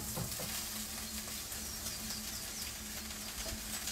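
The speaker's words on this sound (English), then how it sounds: "So we're going to sear the mushrooms." Roughly chopped shiitake mushrooms sear in a hot pan, giving a steady, dense sizzle with faint crackles and soft stirring scrapes, close and continuous without talk.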